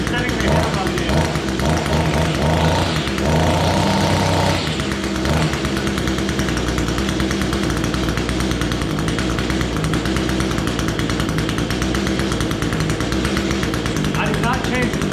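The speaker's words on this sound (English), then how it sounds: "Let it warm up for a little bit. We can always adjust the idle." An Echo small engine idles steadily and loudly, warming up from a cold start after a new carburetor install, with a rough buzzing drone throughout and a brief harsher stretch near the start.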